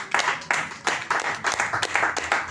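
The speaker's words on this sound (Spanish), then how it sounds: "¿Por qué no un aplauso a Dios?" A crowd gives a short burst of rhythmic, evenly paced applause for God during a religious gathering, close and lively, with no one speaking over it.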